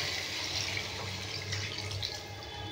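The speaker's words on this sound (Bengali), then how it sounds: "জল দিয়ে দেব।" Water pours steadily into a pan of sautéed cauliflower for a village-style curry, a continuous splashing, gushing flow that stays close and fairly even throughout, with no voices.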